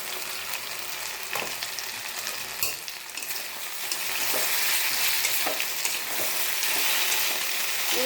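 Pieces of elephant apple (chalta) fry with sugar in a pan, giving a loud, continuous sizzle with occasional scraping stir sounds. The frying intensifies partway through, and no one speaks.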